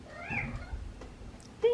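A pet cat meows in a kitchen where an apple pie is baking, giving a drawn-out, wavering cry close to the microphone, followed by a short sharp chirp at the end.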